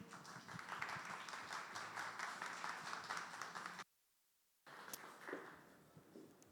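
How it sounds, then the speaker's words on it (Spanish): Audience applause at a talk on web news and modernizing applications, steady dense clapping that cuts out abruptly for a moment of silence, then resumes more thinly and fades. "Un aplauso para Diana."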